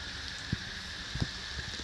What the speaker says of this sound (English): And provide a little shelter from the rain